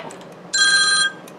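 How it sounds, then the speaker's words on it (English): A phone's incoming-call ringtone plays through the original AM/FM radio of a 1984 Chevrolet C10 truck, one short, bright electronic trill of about half a second that rises over a quiet background. "There's the incoming call."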